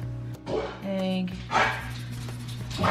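A dog barks a few times nearby while people talk over it, with a steady hum underneath.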